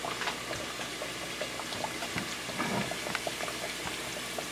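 Steady sizzling and crackling of empanadas frying in hot oil, with scattered pops over a constant bubbling hiss.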